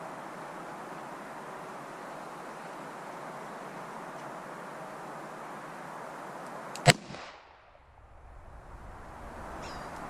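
A single sharp shot from a Smith & Wesson 686 .357 Magnum revolver with a 2.5-inch barrel, loaded with .38 158-grain rounds, cracks out over steady outdoor background noise and then decays quickly.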